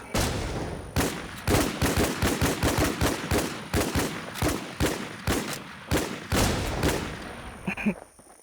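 Rapid bursts of gunfire ring out in the shooter game WarZ, loud sharp shots in quick irregular volleys and short automatic strings, continuing for several seconds.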